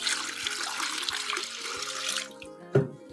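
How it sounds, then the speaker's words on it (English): Water pours steadily into a container as four cups go into a lemonade mix, a close, continuous splashing stream that cuts off near the end, followed by a brief knock. "right here I have 4 cups of water"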